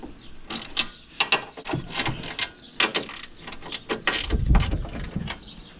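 A wrench breaks loose the 15 mm strut tower brace bolts on a Ford Mustang S550, giving close, crisp ratcheting clicks in repeated short bursts with brief pauses between strokes.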